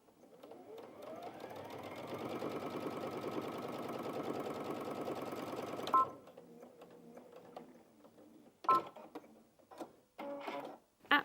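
A Brother Innov-is VQ2 sewing machine runs steadily through four layers of doubled fabric for about six seconds, then stops, followed by a few short clicks and brief machine bursts.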